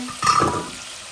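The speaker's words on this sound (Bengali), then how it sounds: "আমি একটু পানি দিই, গরম পানি।" Hot water is poured into a cooking pot of reddened fried onions for a fish curry, giving a short, loud sizzling splash that quickly fades into a steady low hiss.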